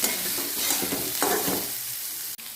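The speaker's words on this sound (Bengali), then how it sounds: "এটাকে হালকা করে একটু ভেজে নেব।" Vegetables with beans stir-frying in a pan, a steady close sizzle with scraping stir strokes running throughout, no voices.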